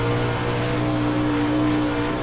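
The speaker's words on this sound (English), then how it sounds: "right now, I've got the sound of the car very loud" Dirt late model race car engine in the iRacing sim, a loud, steady close-up drone with constant low harmonics, holding one pitch with no clear revving.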